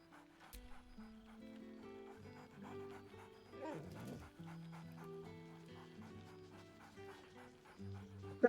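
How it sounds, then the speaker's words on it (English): A dog in the video game Baldur's Gate 3 barking merrily, giving yips and panting whimpers over quiet game music, fairly faint. "barks merrily in something like agreement"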